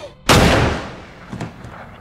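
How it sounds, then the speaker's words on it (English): A gunshot in a faith drama film scene cracks out loud and close, trailing into a long echoing decay, with a fainter pop following about a second later. "Three shots rang out."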